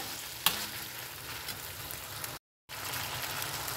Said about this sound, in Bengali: ছোলাটা দিয়ে খুব ভালো করে কষিয়ে নিতে হবে আমাদের